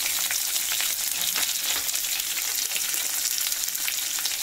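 Onions frying in hot oil seasoned with fennel seeds, bay leaf, cinnamon and cloves for a vegetable biryani, giving a steady, dense sizzle that holds evenly throughout with no voices.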